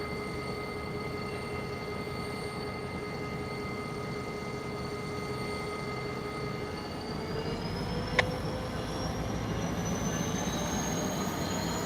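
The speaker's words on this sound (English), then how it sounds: "Our switcher reversing." A CSX switcher locomotive reverses with a steady engine drone and a high sustained wheel squeal that shifts upward midway, punctuated by a single sharp clank.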